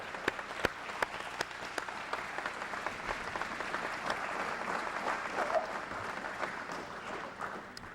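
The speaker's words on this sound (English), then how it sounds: "I want to give you guys a round of applause for the great work you do every day" Applause from attendees at a police memorial and awards ceremony, a moderate crowd clapping steadily with sharp individual claps standing out, somewhat distant in a roomy space.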